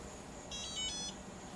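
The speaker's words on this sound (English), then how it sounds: "The alarm comes on." A FlySky iA6B RC receiver's alarm gives a brief cluster of faint, high electronic beeps over a low background hiss.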